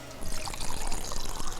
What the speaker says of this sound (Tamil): கொஞ்சம் சரக்கு ஊத்துக்கா